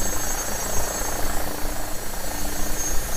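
An AgustaWestland AW109SP helicopter cruises in a flight simulator, its engine and rotor making a steady, loud, dense roar with an even rhythmic throb and no speech.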